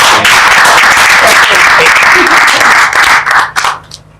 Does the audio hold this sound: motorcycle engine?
no